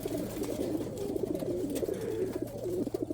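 Racing pigeons in a loft coo steadily, with soft overlapping rolling calls continuing throughout at moderate loudness and no talk.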